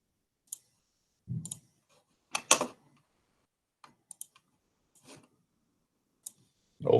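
Computer mouse clicks in a quiet room, several sharp isolated taps spaced irregularly with short gaps, some in quick pairs, plus a few faint soft bumps and a louder thump at the end.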